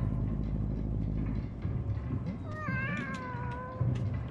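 Cats meowing in the pixel-art exploration game Animal Well, several drawn-out meows overlapping in the second half over a low rumbling game soundscape, fairly clear with no talk.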